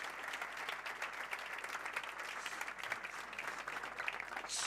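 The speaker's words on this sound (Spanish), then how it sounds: "damos, por favor, un fuerte aplauso a todos ellos" Audience applause for the panelists at a round-table discussion on restaurant dining-room service, a dense, steady patter of many hands clapping that holds evenly from start to finish.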